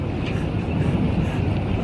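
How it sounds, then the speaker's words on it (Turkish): A strong, steady wind roars with continuous broadband rushing and buffeting across the microphone, loud and unbroken throughout. "bir anda şiddetli bir rüzgar başladı"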